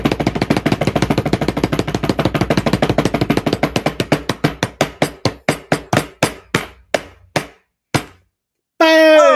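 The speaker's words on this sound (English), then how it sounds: "Eddie, can I get a drum roll, please" A drum roll sound effect plays loud and alone, starting as a rapid run of hits that gradually slows into widely spaced single strikes, then cuts to a brief silence before a final burst.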